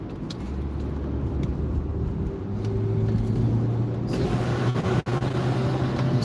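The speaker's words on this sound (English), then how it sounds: "You see all this traffic." Steady roar of road traffic on a highway cloverleaf, heard from inside a moving car at low speed, with continuous engine and tyre rumble and a brief dip partway through.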